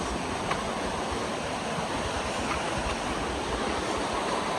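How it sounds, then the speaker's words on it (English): A waterfall in Kirinyaga County, Kenya pours with a loud, continuous broadband roar, steady and close, with no voices. "here we are at the bottom of the waterfall"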